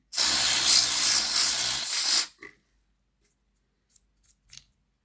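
A burst of contact cleaner sprayed onto a Bachmann Class A4 model train bogie to flush out old gunky grease, a steady close hiss lasting about two seconds, then a few faint small clicks.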